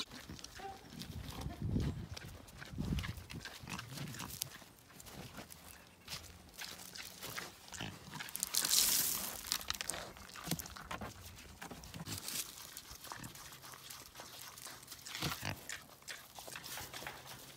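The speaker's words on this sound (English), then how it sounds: "So the pigs are eating in the background." Mini pigs feed in the background, a restless mix of faint snuffling, chewing and grunting with scattered clatter and shuffling, fairly distant and low in level throughout.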